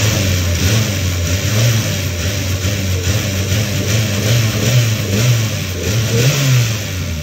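Toyota K3-VE car engine revving steadily after a valve clearance adjustment, with a loud close rumble that swells and eases in repeated blips and no talk.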